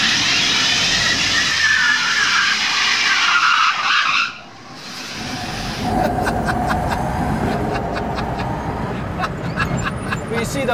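An electric drag car launches hard, a loud burst of tire squeal and skidding that cuts off briefly, then continuing motor and road noise as people talk over it.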